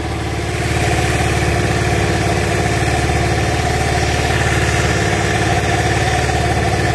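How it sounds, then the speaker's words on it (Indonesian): A carbureted Honda Vario scooter engine with a faulty, fuel-hungry carburetor idles loudly and steadily close by, its RPM swinging slightly up and down. "Nah, pas sudah nyala, dia agak ngayun RPM-nya."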